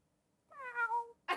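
A human voice imitates a cat's meow: a single drawn-out, wavering mew, close and clear against silence, with a brief burst of another sound at the very end.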